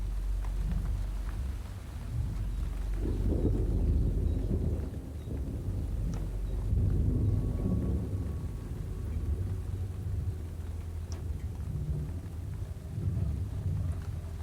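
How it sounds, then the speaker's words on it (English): Rain and rumbling thunder in the Mount Kenya forest, low rolling booms swelling and fading over a steady wash of rainfall and some wind buffeting, with no voices. "Rain streams from the drip tips of the leaves."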